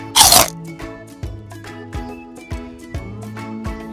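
One sharp, crisp crunch of teeth biting into a crispy fried spring roll filled with pork and vegetables, close and loud, followed by quieter chewing sounds.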